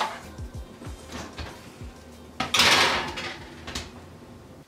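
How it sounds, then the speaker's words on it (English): Cookie tray for vegan chocolate peanut butter cookies slid into an oven, a close metallic rattle and scrape with a louder burst of clatter midway, then a few softer knocks as the door settles. "so I'm gonna put them in the oven now"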